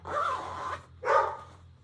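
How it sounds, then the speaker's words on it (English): A house dog indoors lets out two loud, close barks separated by a short pause, over a low steady hum. "I don't know why she's barking"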